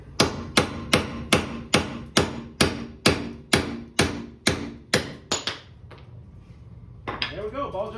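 A hammer strikes a socket to drive the ball joint out of a 2013 Suburban. About a dozen loud, evenly spaced metallic blows ring out close by, then stop, followed by a brief clatter.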